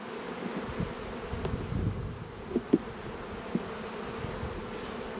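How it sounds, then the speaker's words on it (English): Honeybees buzz steadily in a close, dense drone as a beekeeper shakes them off a hive frame during a late March inspection, with a few soft knocks of the frame against the hive. "I'm gonna shake these bees here too."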